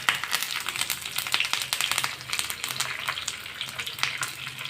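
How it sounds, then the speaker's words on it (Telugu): Tempering of dried red chilies, garlic and curry leaves crackles and sizzles in hot oil, with rapid popping bursts throughout, close and fairly loud, and no talking. "ఇది మంచిగా ఫ్రై చేసుకున్నాం అలాగే ఈ పోపులో కాస్త పసుపు కూడా వేసుకున్నాం"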